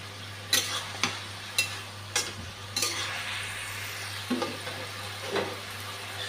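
Fish rubbed with salt and turmeric frying in a pan, a moderate sizzle punctuated by a series of sharp spatula taps and scrapes at irregular intervals, under a low steady hum.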